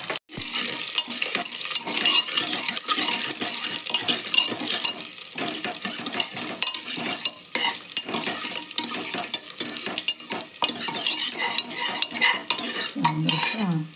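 Coriander leaves, curry leaves and mint fry in a pan of spiced oil with bay leaf, cinnamon, cloves and cardamom, giving a continuous close crackling sizzle broken by scrapes and clinks as a utensil stirs against the pan.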